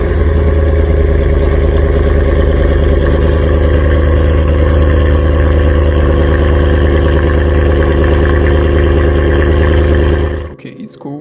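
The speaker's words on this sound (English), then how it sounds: "let's test the engine sound" Loud, steady, rumbling idle from a BMW E39 M5 engine in a garage, throbbing evenly for about ten seconds before cutting off abruptly.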